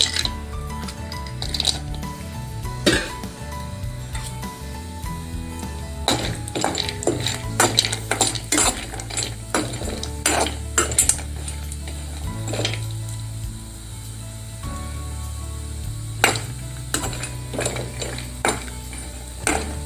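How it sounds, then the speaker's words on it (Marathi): Mixed-lentil sandge shallow-fry in hot oil, a continuous sizzle broken by clinks and taps of a utensil against the pan, close and fairly loud. "ह्याच्यामध्ये मी हे सांडगे टाकून घेते आणि मस्त शालो फ्राय करून घेते"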